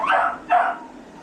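Two quick barks from a nearby dachshund during grooming, one right after the other, then quiet.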